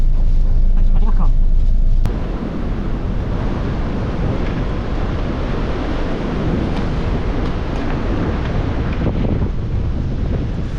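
Strong storm wind roars continuously through trees in a dense, rumbling rush, buffeting close by with no letup, a faint voice briefly audible early on.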